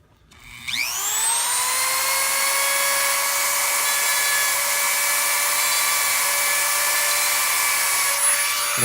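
A power drill spins up and runs steadily at high speed, boring into a Doc Ock action figure; a loud, continuous whine holds after a quick rise in pitch, with no talk.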